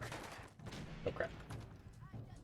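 Enemy gunfire in Fallout 4, a few sharp shots crackling over steady game noise with a voice speaking alongside.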